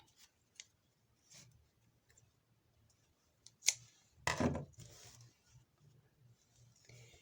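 Scissors snip through crochet yarn at the end of a row: a few faint, sparse clicks and one short, sharper cut in a quiet room.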